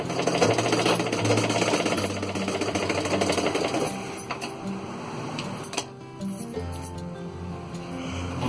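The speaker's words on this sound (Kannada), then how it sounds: "ನಾನು ಇದು ಬಿಚ್ಕೊಂಡು ಹೋಗುತ್ತೆ ಅಂತ ಎರಡೆರಡು ಹೊಲಿಗೆ ಹಾಕ್ತಾ ಇದ್ದೀನಿ." A sewing machine runs steadily, double-stitching a blouse with a fast, even mechanical chatter. The stitching slows and breaks into a few clicks and pauses near the end.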